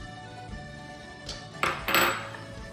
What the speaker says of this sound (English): When your onions and garlic start simmering a little bit, mix them around